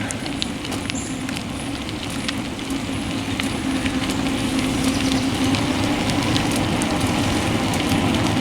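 Steady rain falling, a constant soft hiss of drops spread evenly throughout, with no voices.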